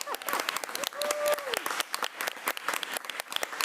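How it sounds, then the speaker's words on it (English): Audience applause at a transportation board meeting, a sustained patter of clapping across the room with a voice briefly audible over it. "a round of applause"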